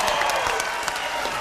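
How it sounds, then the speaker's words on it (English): Steady, dense applause from a game show studio audience on Family Double Dare, loud and continuous with no pauses. "Round of applause for them."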